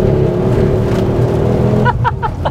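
Low, steady exhaust thrum from a Ford Focus ST MK2 with a fairly mild exhaust setup, rumbling continuously and fairly loud before easing off near the end.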